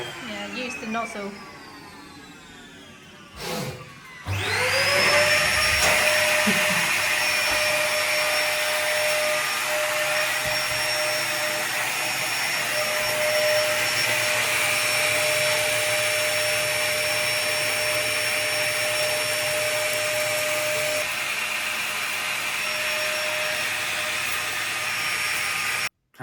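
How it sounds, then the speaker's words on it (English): Close, loud and steady, a Vax bag-less vacuum cleaner runs with its nozzle attachment, starting up after a brief thump and holding a whining drone to the end. "So cleaned the Hoover chamber out."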